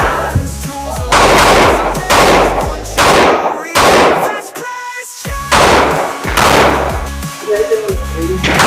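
Gunfire at an indoor shooting range, Armscor in Marikina, with about six loud, sharp shots at irregular intervals, each followed by a brief echoing decay.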